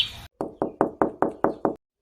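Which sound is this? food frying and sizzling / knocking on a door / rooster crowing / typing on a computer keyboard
knocking on a door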